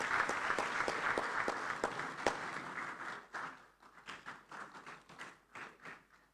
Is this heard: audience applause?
yes